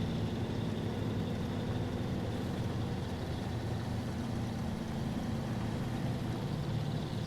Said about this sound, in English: Is the truck making a weird noise right now?